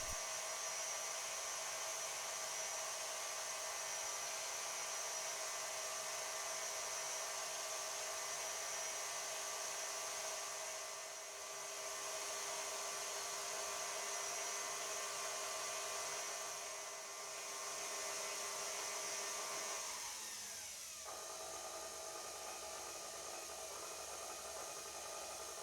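A stand mixer whips tiramisu cream with sugar, a steady high whirring drone that holds for about twenty seconds, then drops to a lower, quieter hum as the speed is reduced near the end.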